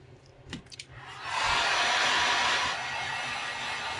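A hair dryer heat-sets paint on a custom crankbait lure, starting with a few clicks and handling knocks before the blower roars on loudly and holds a steady rushing hiss.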